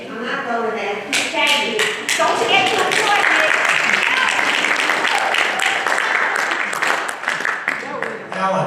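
An audience at a pickleball expansion town hall meeting breaks into applause, a dense wash of clapping lasting several seconds with scattered voices mixed in.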